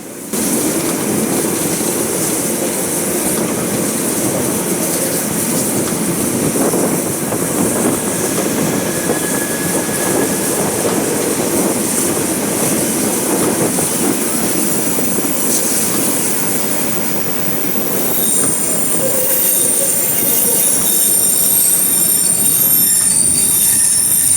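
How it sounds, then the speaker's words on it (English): A German passenger steam locomotive built in 1956 runs past on rails, a loud, continuous rumble with wheel and rail noise and a brief squeal near the end, close by and without speech. "German passenger steam locomotive."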